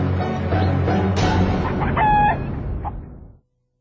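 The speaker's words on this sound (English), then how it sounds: "We're wondering what is the deal with these chicken?" Chickens cluck and squawk loudly and continuously, five birds brought out for a game-show challenge, their busy calls overlapping and filling the scene before cutting off abruptly.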